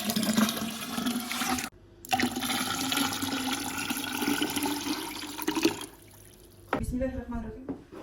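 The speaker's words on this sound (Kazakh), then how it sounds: "Енді қазір дәл осындай 1 литрлік банкымен 2 литр су құямыз" Water poured from a one-litre jar into a churn for making butter by hand, a gushing splash that runs for several seconds, breaks off, then resumes with a shorter pour.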